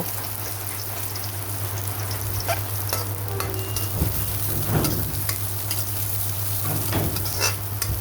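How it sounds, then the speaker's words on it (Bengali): Onions fry in a pan with a constant hiss and occasional spoon scrapes as they are turned, a low hum running beneath, no one talking. "দেখতে পাচ্ছেন পেঁয়াজগুলো উল্টায় পাল্টায় ভাজতেছি যেন পেঁয়াজের কাঁচা স্মেলটা চলে যায়।"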